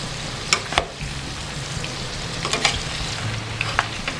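Continuous sizzling of shrimp frying in a pan for shrimp scampi, with a few light scrapes and taps as it is stirred.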